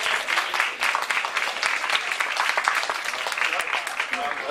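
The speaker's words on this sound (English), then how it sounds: "And a big applause for all our volunteers" A crowd at a Pecha Kucha night in Tokyo claps for Safecast volunteers, producing sustained, dense applause at a steady level across the whole stretch, with no distinct voices standing out.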